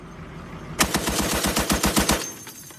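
Machine gun fires a rapid string of about a dozen sharp, evenly spaced shots, loud and close, then stops abruptly, with no talk.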